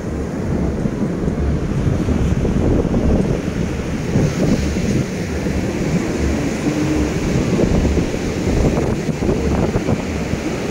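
Surf along a quiet beach at Strojenar, a steady wash of waves mixed with heavy wind buffeting the microphone throughout, continuous and fairly loud with no voices.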